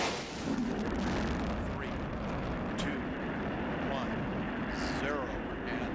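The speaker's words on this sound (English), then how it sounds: "liftoff of Space Shuttle Atlantis on a mission to build, resupply, and to do research on the International Space Station" Space Shuttle Atlantis lifting off on the 2009 STS-129 mission to the International Space Station, a loud, continuous broadband rocket roar that rumbles steadily throughout with no pauses.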